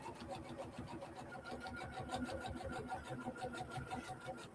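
A sewing machine stitches a seam across a bag flap, a fast, even mechanical chatter of needle strokes running continuously at close range, fairly quiet, with no talk over it.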